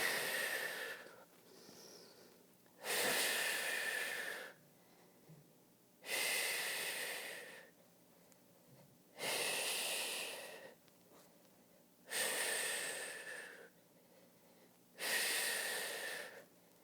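Slow, deep breathing during prenatal Pilates exercises: six loud, breathy exhales roughly every three seconds, separated by quieter inhales, close and without speech.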